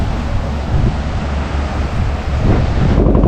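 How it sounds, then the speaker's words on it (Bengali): Strong storm wind on Mousuni Island, roaring and buffeting the microphone in a loud, continuous rush that stays steady throughout. "প্রচণ্ড জোরে হচ্ছে ঝড় বইছে"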